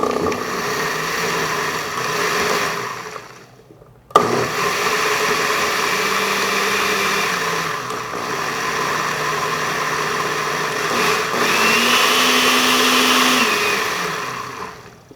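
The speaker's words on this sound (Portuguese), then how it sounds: "Mistura todos os ingredientes no liquidificador." A blender mixing ingredients for a cake batter whirs loudly and steadily, stops briefly, then starts again and runs on with a droning motor whine that rises slightly in pitch near the end.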